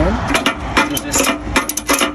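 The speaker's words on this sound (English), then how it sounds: "you'll just keep cranking basically until it's tight and it's not moving and the tire's really secure" A ratchet strap is cranked tight over a tire on a U-Haul tow dolly, giving repeated close, loud clicking and rasping bursts in an uneven rhythm.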